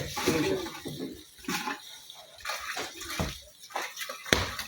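Water gushes from a tap under municipal supply pressure into a container, a loud sloshing, splashing flow with uneven surges, close to the microphone and without speech.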